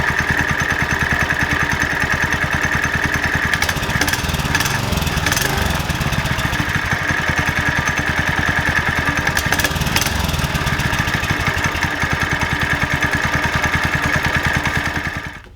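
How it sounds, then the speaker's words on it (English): A TrailMaster MB200-2 minibike engine idles loud and close, with a steady putter and rattle that rises slightly midway, then cuts out at the end. "we've let our engine idle for about 30 minutes"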